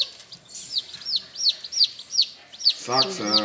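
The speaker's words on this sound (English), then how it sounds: "They're chickens. Say hi, chickens." Repeated high chirpy clucks and peeps from chickens at a steady rhythm, with a louder burst of fowl calls near the end.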